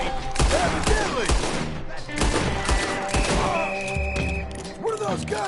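Gunfire rattles through a Western shootout in Red Dead Redemption 2, with repeated close shots and bursts in quick uneven succession, thumps and impacts mixed in, under a continuous game soundscape with voices.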